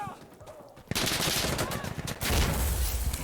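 RPK machine gun in the video game Insurgency: Sandstorm, a loud close burst of rapid automatic fire after a quieter opening, with rattling shots continuing and heavier booms near the end.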